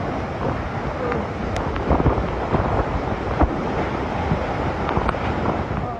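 Strong typhoon wind of about 110 km/h from Typhoon Ompong in Barangay B. del Mundo, Oriental Mindoro: a steady, loud broadband roar buffeting the microphone, with brief harder gusts and no voices.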